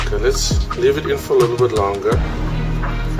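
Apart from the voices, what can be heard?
No distinct noise like a dog, phone or traffic.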